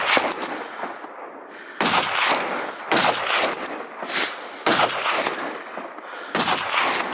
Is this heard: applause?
no